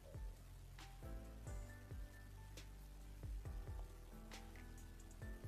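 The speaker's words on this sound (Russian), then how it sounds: "Кастуем второй раз дождь." A rain spell in the video game Knight Pen and Paper 3 plays as a soft patter of repeated drop-like hits with ringing tones, quiet and continuous for several seconds.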